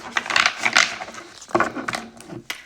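Tarot cards shuffled by hand, two bursts of dry riffling and papery rubbing separated by a brief pause, close and fairly loud with no talking.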